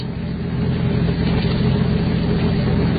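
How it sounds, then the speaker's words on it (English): Car engine in a radio drama effect, a loud continuous low rumble of a car slowing toward a stop with no voices over it. "As I slowed the car to a stop"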